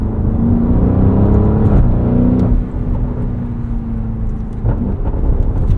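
A 2024 Porsche Cayenne Turbo E-Hybrid Coupe in Sport Plus gives a loud, deep engine snarl heard from inside the cabin, a steady rumble that shifts pitch as it pulls and changes gear.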